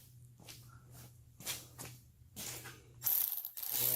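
A ratchet fitted with a 7mm socket turning a bolt on a GM seat rail, heard as several bursts of close, sharp clicking separated by short pauses.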